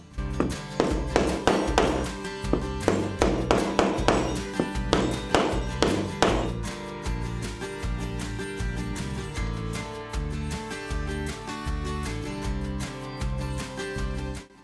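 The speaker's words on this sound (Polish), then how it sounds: "Przy tych mniejszych łukach będę używał dziurkacza." A hole punch is hammered through leather for a handmade coin purse, giving a fast run of sharp, close taps for about six seconds before the strikes stop and only a low ringing remains.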